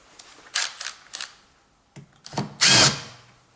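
Power drill unscrewing Torx bolts on a washing machine's upper cover, heard as several short whirring bursts separated by pauses, close and fairly loud.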